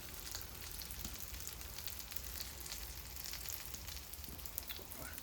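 Smoked haddock fishcakes fry gently in a pan with a soft, even sizzle and faint crackling throughout. The sound is quiet and steady, with no speech.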